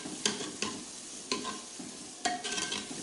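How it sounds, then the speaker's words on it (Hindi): Tomatoes sauté in a pan for beef kaleji masala, with several distinct scrapes of a spoon stirring through a soft, low sizzle; the strokes come at irregular intervals, close and fairly quiet. "और इसको अच्छी तरीके से भुनाई करेंगे जब तक हमारे टमाटर गल नहीं जाते।"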